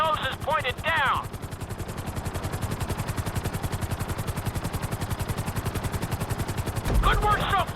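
A helicopter in the video game GTA 5 flight school drones with a fast, steady rotor chop pulsing evenly throughout, while brief game sound effects flare up at the start and again near the end.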